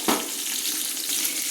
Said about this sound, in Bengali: ওলকপি আর আলুগুলোকে একটু নেড়ে নিচ্ছি।